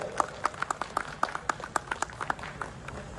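Sparse, evenly spaced hand claps from a small audience at a new motorcycle launching ceremony, crisp and fairly close, a steady patter of individual claps rather than a dense roar.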